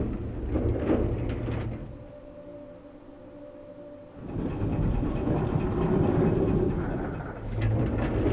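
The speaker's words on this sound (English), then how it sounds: "we can take the tram now." A tram ride in Resident Evil 2 produces a heavy rumbling rail-car drone that fades to a quieter hum with a mechanical clunk, then surges back to a loud rolling roar, with no speech.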